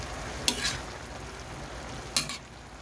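Egg is stirred into bitter gourd (ampalaya) frying in a pan, giving a steady close sizzle broken by two sharp scraping strokes of the spatula.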